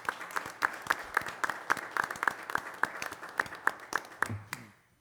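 Applause at a township trustees meeting: a small room of people clapping, with sharp individual claps building into a steady patter that tapers off near the end, fairly close and moderate in level.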